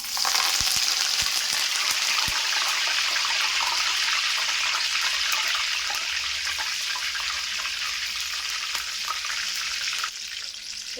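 Curry leaves frying in hot oil after chicken pakodi, a steady loud sizzle and crackle filling the whole stretch, easing slightly near the end.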